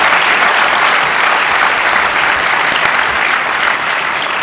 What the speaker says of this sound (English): you had applause that took some of your time